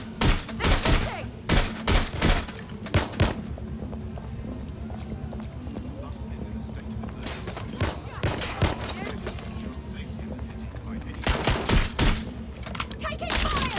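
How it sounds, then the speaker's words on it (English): Heavy gunfire in Watch Dogs Legion: rapid automatic bursts and close, loud shots come in clusters at the start, middle and end, with quieter stretches of background noise between the volleys. "They're shooting!"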